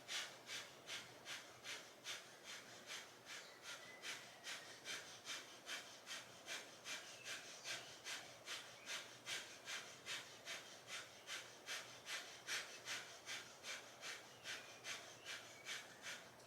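Breath of fire during a yoga flow, quick rhythmic forceful exhalations through the nose repeating steadily about twice a second, close and fairly quiet with no talk.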